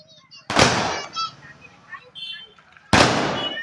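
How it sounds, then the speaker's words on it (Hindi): Two sharp firecracker bangs go off in a street celebration, close and loud, spaced a couple of seconds apart, each followed by a ringing decay, with voices chattering in between. "आज आप लोग पटाखा छोड़"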